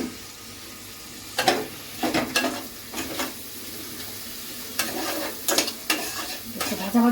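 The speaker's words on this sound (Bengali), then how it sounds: "টমেটো দিয়ে একটু ভাজা নিলাম" Tomato and green chili fry in a pan under a steady background sizzle, broken by several sharp scraping strokes of a spatula as the mixture is stirred.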